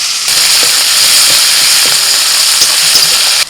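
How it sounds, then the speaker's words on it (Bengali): Chopped onions sizzle steadily in hot oil left over from frying tilapia, a continuous bright crackle with a few soft clinks of utensils, heard close and alone. "মাছ ভাজা হয়ে গেছে ওই তেলের মধ্যে পেঁয়াজ কুচি দিয়ে দিলাম"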